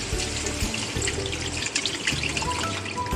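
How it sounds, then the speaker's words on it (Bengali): Water pours steadily into a pan of dal bora curry for about three seconds, a continuous splashing hiss at moderate volume with a faint sizzle and no voices. "তো এবার জল দিয়ে দিচ্ছে"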